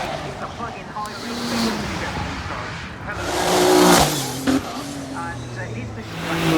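A 4-litre turbo plug-in hybrid car drives past at the Goodwood Festival of Speed, its engine rising to a broad whooshing peak midway amid crowd noise and a voice talking over it.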